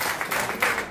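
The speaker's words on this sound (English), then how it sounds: "I need a round of applause for these people" Brief burst of audience clapping at a storytelling workshop, a short dense patter of many hands lasting under a second.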